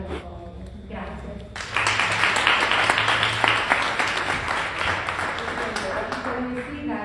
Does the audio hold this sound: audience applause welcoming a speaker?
yes